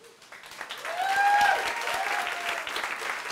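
An audience applauds a performer named Amita Hepri at a live event. The clapping swells from a soft start to a steady, sustained round and sounds somewhat distant and modest in volume.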